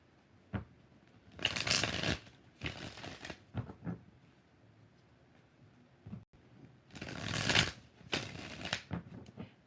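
Cards being shuffled in a few bursts of riffling, with quiet pauses and small handling taps between them; fairly close and moderate in volume.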